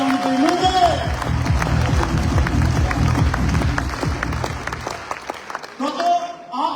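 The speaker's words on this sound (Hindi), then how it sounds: "एक जोड़ा तालियां आपके लिए होनी चाहिए और हमारे बिजनेस के लिए होनी चाहिए।" Audience applause in Talkatora Stadium during a business talk event, a burst of clapping from a large indoor crowd rising and then fading over several seconds, with a speaking voice at the start and end.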